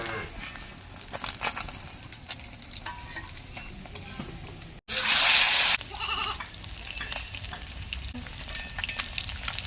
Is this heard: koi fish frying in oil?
yes